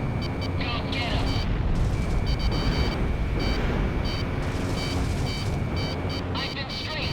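Loud, continuous roar of jet combat in the video game Ace Combat 6 as an aircraft is strafed, with rumbling bursts and booming impacts layered throughout and voices mixed in.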